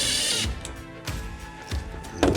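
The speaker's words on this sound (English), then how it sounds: "That just self-drills right into the floor." A power drill drives self-drilling screws into the floor of a RAM ProMaster van, with a short loud whirring burst at the start followed by brief, quieter drill pulses and knocks.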